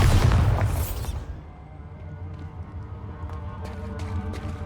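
A Bombarda explosion spell in the video game Hogwarts Legacy goes off with one loud, deep boom that quickly fades into a low rumbling tail and faint clicks.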